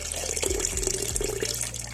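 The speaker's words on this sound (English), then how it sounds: "that's the 3rd litre of water going in there" Water pouring into a pineapple wine mash in a container, a steady close splashing trickle with a few glugging surges as the stream runs, no speech.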